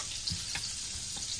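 Butter, onion and garlic frying in a pan, a dense continuous sizzle with a couple of faint stirring knocks, close and steady, no talking.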